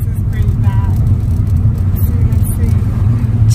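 Cars drive along a road high on a mountain near the beach at Crash Boat, Puerto Rico, giving a steady close engine and tyre rumble that continues throughout, with faint talk over it.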